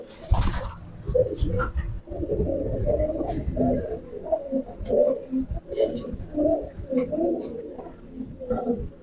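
Pigeons coo in soft, repeated low throaty calls inside a village-kept pigeon loft. The cooing runs steadily and close by from several birds, with a few faint higher chirps and brief rustling sounds mixed in.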